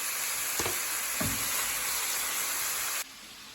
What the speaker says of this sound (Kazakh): Қуырған фаршымыздың үстіне жаңағы жуамызды саламыз. Бірге тағы да қуырамыз.